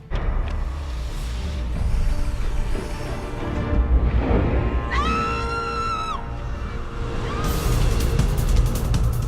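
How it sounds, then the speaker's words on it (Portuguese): A film car chase with police sirens: engines roar and cars rush past while wailing sirens rise and fall, loud and close, over a busy mix of traffic noise. "As perseguições de carros são um dos destaques do filme"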